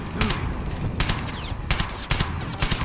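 Rapid bursts of gunfire fill a LEGO World War II animated battle with a sniper in a tower, several loud volleys of shots cracking out in quick succession with only brief gaps between them.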